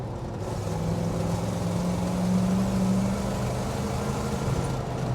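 Chevrolet El Camino engine pulling through the gears, a steady low drone with a slight rise in the middle, heard from inside the moving car, no talking.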